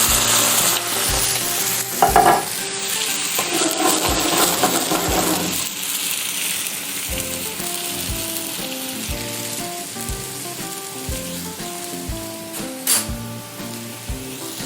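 Sweated shallots sizzle loudly in a pan as Sauvignon Blanc goes in to deglaze, a bright hiss that surges at the pour, with clinks of a utensil against the pan and rhythmic stirring knocks, close and without speech.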